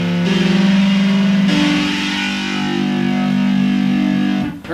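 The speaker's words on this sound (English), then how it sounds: "Like you got a hard rock guitar." Hard rock guitar preset played from a MIDI keyboard in Mixcraft, loud distorted sustained chords that shift pitch twice, ringing steadily before cutting off abruptly at the end.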